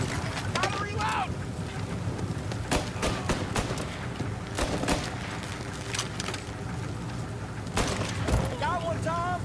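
Gunfire in the video game Mafia Definitive Edition: repeated sharp shots crack out in irregular bursts over a continuous rushing, wind-like background, with characters' voices talking throughout.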